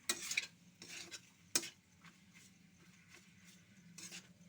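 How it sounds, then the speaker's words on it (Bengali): Pasta and meat are stirred and tossed together in a pan, with a few sharp utensil scrapes and clinks over a faint sizzle, close up and quiet, with no talking. "এটাকে এখন মিক্সড করা হচ্ছে মাংসটাকে দিয়ে।"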